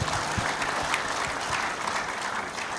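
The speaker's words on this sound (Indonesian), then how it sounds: "Berikan aplaus." A large crowd at a university graduation ceremony in Indonesia claps steadily and warmly, a dense, even wash of applause that holds for the whole stretch without fading.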